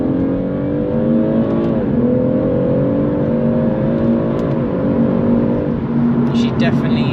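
A BMW M140i on the road accelerating in second gear after a downshift, a steady loud engine drone rising in pitch with two brief gear-shift dips, heard from inside the car.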